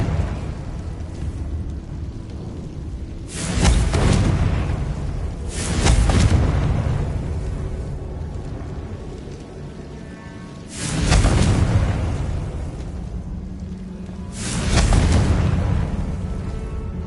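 The Confringo explosion spell in Hogwarts Legacy goes off four times, each one a loud, deep, booming blast that rolls and fades. Quieter stretches of a few seconds separate the explosions.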